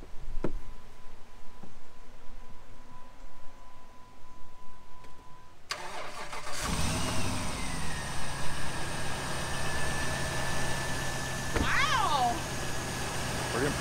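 After several quiet seconds of faint handling noises, a car engine is started using a Vector 1200 amp lithium jump starter. It cranks abruptly, catches and settles into a steady idle with a rising whine, heard up close.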